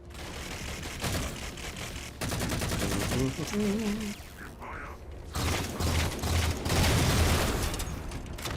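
Gunfire in the Halo 4 shooter aimed at an enemy on a mounted turret, with bursts of rapid mechanical shots and clatter alongside game effects and voice lines, loud and nearly continuous.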